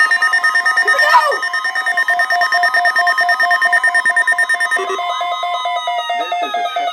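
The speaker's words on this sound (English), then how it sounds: "This is a test of the new weather radio warning alarm device and the emergency alert system" A First Alert weather radio sounds its emergency alert alarm, a loud steady electronic tone with harmonics that repeats for several seconds before shifting pitch near the end, with no talk over it.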